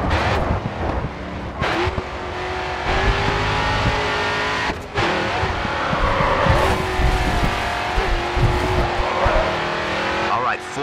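A race car in Grid 2 slides through tight turns, its engine droning steadily with revs rising and falling and tires squealing, while a driver talks over it.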